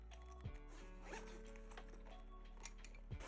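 Zipper on a hardcover Pro Case sketchbook case being pulled open, a continuous close, quiet zipping rasp lasting a few seconds, with a soft handling bump at the start and end.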